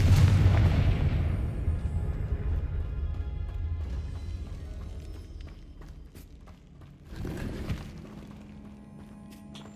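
Confringo and Bombarda spell explosions in the video game Hogwarts Legacy: a loud booming blast that slowly fades, followed by a second, smaller burst, then crackling debris and a low hum.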